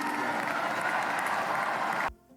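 A crowd of supporters cheering and applauding President Trump's announcement of the US withdrawal from the Paris Agreement, a dense, steady roar of clapping and cheers that cuts off abruptly near the end.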